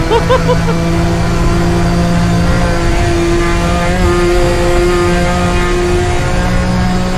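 A Nissan R32 GTR accelerates hard along Bathurst's Conrad Straight, its engine droning loud and close with a rising, sustained tone that holds steady as the revs climb, while a driver speaks excitedly over it.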